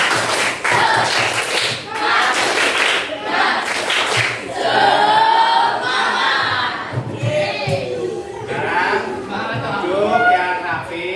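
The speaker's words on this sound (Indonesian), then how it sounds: "Sekali tepuk semangat." Elementary schoolchildren in a classroom perform a rhythmic spirit clap, patterned bursts of group clapping mixed with loud chanted and shouted voices, fairly close and energetic throughout.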